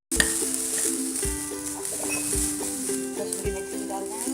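Masala sizzling and frying in oil in a pan for dhaba-style paneer masala, a steady close hiss with a repeating low thump and faint clinks throughout, alone without talk.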